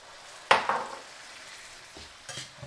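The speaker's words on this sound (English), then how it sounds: "now we're going to add our broth" Beef broth hits a pot of sizzling spiced meat for meat pies with a sudden loud splashing hiss that fades into a soft simmer, followed later by faint stirring clinks.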